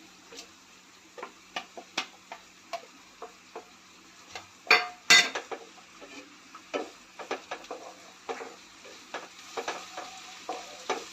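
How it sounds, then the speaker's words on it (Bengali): Onions browned in a pan sizzle softly as ginger garlic paste is added and stirred in, with scattered scraping clicks of a utensil against the pan and a brief louder clatter midway, no talking. "এখানে আমার পেঁয়াজ লাল করে ভাজা হয়ে গেছে আমি এবার এটাকে আদা রসুন পেস্টটা দিয়ে দিচ্ছি এর মধ্যে"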